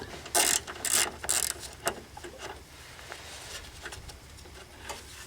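A ratchet wrench turns a 10 millimeter bolt while headlight bulbs are replaced on a 2003 Honda Element, with a few quick bursts of close ratcheting clicks followed by quieter handling noise.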